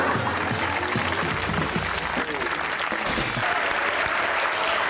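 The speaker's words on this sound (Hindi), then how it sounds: "बस बहुत हो गई तालियां।" Studio audience on a talk show claps in a dense, steady round of applause at even loudness, with a voice briefly audible beneath the clapping.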